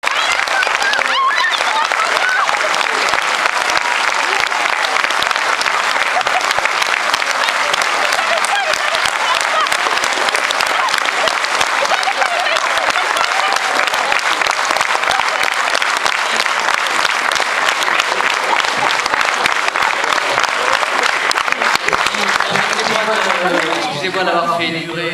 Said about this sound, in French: Excusez-moi d'avoir fait durer un peu plus longtemps les applaudissements